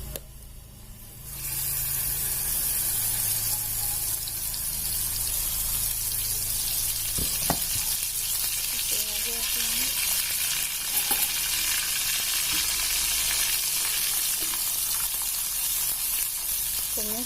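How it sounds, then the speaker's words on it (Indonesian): Spice paste sautéing in a pan for Palembang-style tekwan broth made with shrimp stock, a loud, steady sizzle and frying hiss that starts abruptly after a quiet opening and continues unbroken, with occasional stirring clinks. "kita tumis dulu bumbunya"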